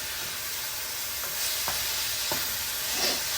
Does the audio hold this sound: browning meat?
yes